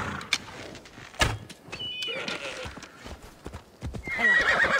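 Horse riding in Assassin's Creed Odyssey, with steady clip-clop hoofbeats, a clear whinny and snorts close by, plus a few sharp thuds, all playing without speech.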